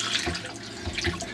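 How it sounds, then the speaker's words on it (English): Water runs from a tap into a sailboat's galley sink, splashing and gurgling unevenly at close range for a moment. "the sink has hot and cold running water"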